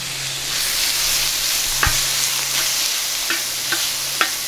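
Lean ground beef fries in a pan while cooking at a campsite, a steady close sizzle with a few sharp taps and scrapes from stirring.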